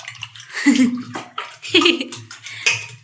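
Potatoes being washed by hand in a vessel of water, with splashing and sloshing in several bursts and brief clinks, close by and fairly loud, with a voice heard faintly at moments.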